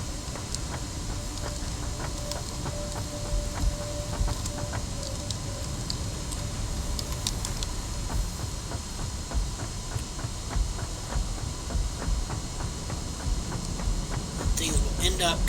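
A train runs in the factory-building video game Satisfactory, heard as a steady, dense mechanical rumble with scattered clicks and clanks that continues for the whole stretch at an even level.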